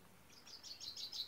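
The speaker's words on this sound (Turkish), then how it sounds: "Kuşların sesi." A bird chirps in quick high repeated tweets in a village countryside among cherry orchards, faint and somewhat distant, heard alone without talk.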